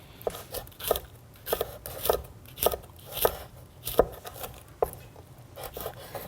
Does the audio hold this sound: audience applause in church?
no